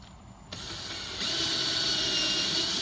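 A power drill fitted with a 12.3 mm bit bores into a Land Rover Defender fender, its motor whine close and steady, climbing to a louder, sustained pitch partway through.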